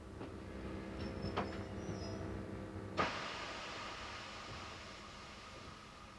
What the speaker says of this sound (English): One of the last diesel-electric trains arrives at a cheerfully decorated platform.